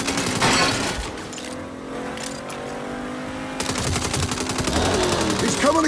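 Rapid automatic gunfire crackles in dense bursts during a Saints Row shootout against a charging enemy, loud and close, with a sustained engine-like drone underneath and a brief pause in the middle before the shooting resumes.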